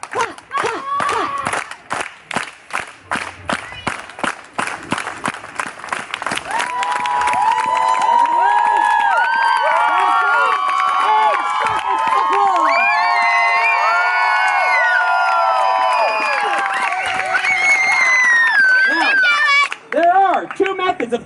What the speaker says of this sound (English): let's get a clap going.